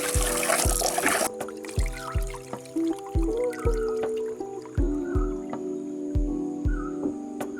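Weralu fruit being rinsed in water: an opening burst of splashing and trickling gives way to a steady run of soft, rhythmic knocks and sloshes as the fruit is handled in the water, close by with no talk.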